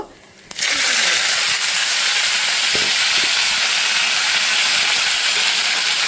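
Snake gourd hits hot oil tempered with nigella seeds, bursting into a loud, continuous sizzle that holds steady and close after a quiet start, with a few faint knocks underneath.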